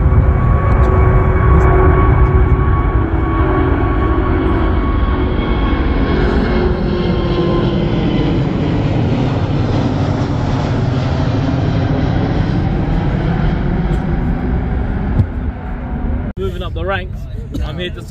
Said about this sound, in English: This plane take off and we'll pick up the story on the other side.